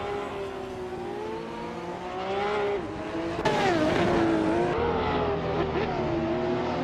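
Race car engines in a racing video game, including a 1996 Ferrari F50 GT and a 1990 Nissan Skyline GT-R R32, whine loudly and continuously with pitch rising and falling through shifts, near and sustained, with no talking.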